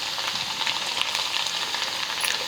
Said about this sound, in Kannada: ನಾನೀಗ ಡೈರೆಕ್ಟ್ ಎಣ್ಣೆಗೆ ಬಿಟ್ಕೊಂಡೇನಿ ನೋಡಿರಿ.